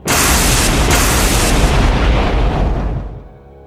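A loud, sustained explosion in an audio drama battle scene, a dense roaring boom that holds for about three seconds before quickly dying away, with no voices.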